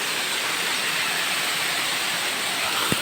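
A remote hillside waterfall near the Dima Hasao–Meghalaya border gives a continuous hissing rush of falling water, even and moderately loud throughout, with a tiny click near the end and no speech.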